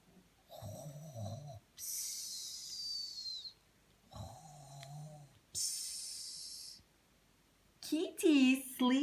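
A storyteller's voice imitates the snoring of a sleeping old man, giving three drawn-out snore sounds. Each has a rasping inhale followed by a hissy exhale, and a few brief bits of speech come between them.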